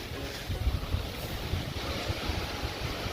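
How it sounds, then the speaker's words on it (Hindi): Strong wind sweeps through a mountain village in a steady, roaring rush with heavy low buffeting against the microphone. No voices are heard. "बहुत ज़्यादा हवाएं चलने लगी है"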